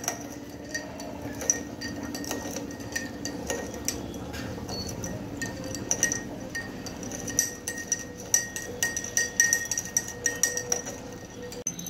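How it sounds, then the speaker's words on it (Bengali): A metal spoon clinks and rattles steadily against a glass as mishri rock sugar is stirred into cold water, with a continuous run of bright ticks that grow denser and louder toward the end. "চামচ দিয়ে গুলিয়ে নিতে হবে, নাইলে মিশ্রিটা গলবে না।"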